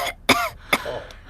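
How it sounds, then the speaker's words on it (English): A child coughs twice, each sharp, close and throaty, with a soft breathy rasp trailing after. "And I've got a cough."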